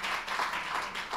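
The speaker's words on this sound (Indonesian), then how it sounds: "Ada yang mau tepuk tangan buat Yesus?" Scattered clapping from a church congregation applauding for Jesus during a sermon, a short burst of moderate, fairly distant hand claps with no speech over it.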